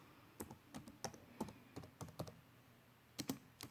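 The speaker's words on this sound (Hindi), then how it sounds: "here I will type with the help of keyboard" Keys clack on a computer keyboard during typing in PowerPoint, about a dozen quiet, irregular taps in short bursts, close and alone.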